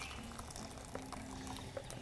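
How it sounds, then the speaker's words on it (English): Cooking liquid being dumped off boiled potatoes: a faint, steady splashing pour of water running for a couple of seconds, with no talking. "We're gonna go ahead and dump the juice out."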